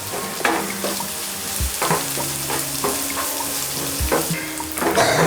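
Green and dried red chillies fry in a pan while being stirred, giving a steady close sizzle broken by repeated scraping strokes of a spoon, with no talking.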